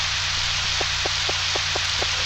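Steady rain falls in Harvest Moon 64 on a rainy day with no music, a constant soft hiss with faint repeating drips over a low hum, alone with no talk.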